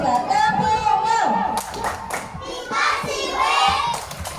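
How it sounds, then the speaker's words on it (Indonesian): Children in a classroom clap for a group's presentation. Claps come through in loose bursts, mostly in the second half, while voices talk and call out over them throughout. "Kita kasih tepuk tangan dulu untuk kelompok kata, presentasinya luar biasa. Tepuk tangan."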